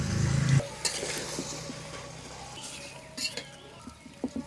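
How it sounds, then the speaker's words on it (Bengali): Marinated chicken goes into a hot pan for morog polao, with a brief sizzle followed by scattered stirring scrapes and clinks, fairly quiet and close. "এখন ম্যারিনেট করা মাংসটা দিয়ে দেম বাদাম বাটা কাঁচামরিচ"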